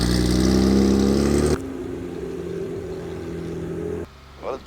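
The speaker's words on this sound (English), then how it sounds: "Yeah, the motor sounds good. I'm gonna let it warm up a little bit" Engine of a 1980s BMW 3 Series race car warming up, a loud steady idle-rev drone that drops abruptly to a quieter, lower idle, then a brief burst near the end.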